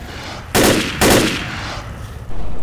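A mounted turret gun blasts in sustained bursts in Left 4 Dead, loud and near, with two heavy volleys followed by a quieter gap and then renewed firing.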